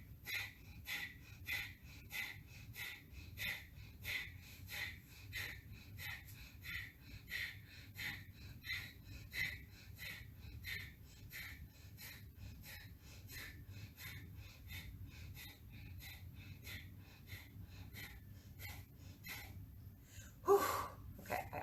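Kapalabhati yoga breathing, a long run of rapid, forceful nasal exhales in a steady quick rhythm, each a short sharp puff close to the listener, continuing for about twenty seconds before a final deeper breath.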